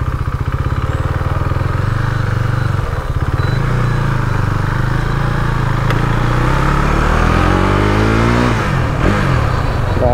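A KTM Duke 390 motorcycle engine revs hard up close, a loud, continuous throaty drone that holds steady and then climbs in pitch near the end, with no talking.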